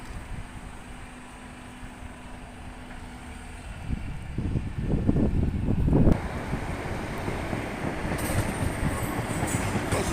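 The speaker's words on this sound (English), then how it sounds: "That's the trains 150 143" Class 150 diesel trains passing in Salford, Manchester, a low rumble building to a loud rolling roar of wheels on rail, heard from trackside with no talking.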